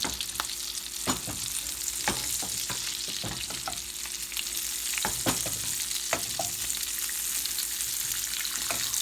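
Sausage frying in hot oil in a skillet, a steady loud sizzle with crackles and pops and occasional stirring clicks, heard close with no talking.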